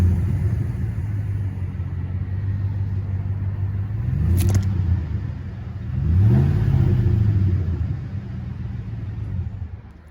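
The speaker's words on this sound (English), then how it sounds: "Go ahead and start the car up for you guys." A pickup truck engine idling with a low rumble, then revved twice in short swells that rise and settle back to idle, close by with no talking.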